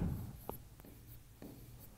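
Faint, close pen strokes on paper during a class 12 maths lesson, a few short scratchy marks separated by pauses in a quiet room.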